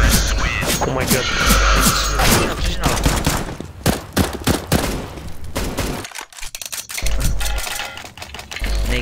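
A Negev machine gun in CS:GO fires long, rapid bursts that hammer out close and loud, with a brief pause near the end before the sustained firing resumes.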